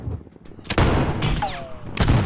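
Sniper rifle shots in a Call of Duty game, with one-shot rifles such as the HDR, ZRG 20mm and 3-Line. Three sharp, loud cracks ring out a fraction of a second apart, each followed by a short echoing tail.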